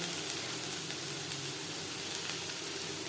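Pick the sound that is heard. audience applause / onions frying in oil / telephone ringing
onions frying in oil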